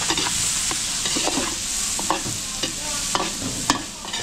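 Garlic and onion sautéing in a pan, a steady close sizzle broken by repeated scraping stirs of a spatula at an uneven rhythm, with no voices.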